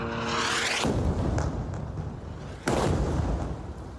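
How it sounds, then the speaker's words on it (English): Two heavy explosions from an airstrike in Gaza, the first near the start and a sharper, louder blast later, booming over the constant low droning hum of a military drone. "The sound of an Israeli drone drowned out by 2 explosions."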